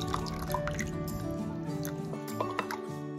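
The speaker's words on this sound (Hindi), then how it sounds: "कॉर्नफ्लोर को अभी मैं घोल बना लेंगे" Four spoons of cornflour are stirred with water into a thin slurry, giving soft wet squishing and dripping sounds, faint and steady beneath a low background hum.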